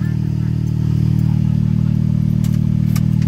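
An Autozam AZ-1's small engine idles on after shutoff under a turbo timer, a loud, steady low drone close by with faint clatter and a few brief high ticks near the end.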